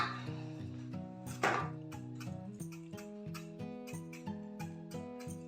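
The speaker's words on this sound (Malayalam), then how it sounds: "എന്നിട്ട് പാവയ്ക്ക അരിയുന്ന കാണിക്കാം." A knife finely slicing bitter gourd on a board makes a steady series of quick, crisp chops, close and moderately loud, with background music playing throughout.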